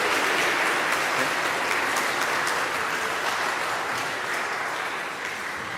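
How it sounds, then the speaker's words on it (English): An audience at a school eighth-grade recognition ceremony applauds the robotics team, a continuous, full round of many hands clapping that stays loud and even and fades only slightly near the end. "we can give them a round of applause"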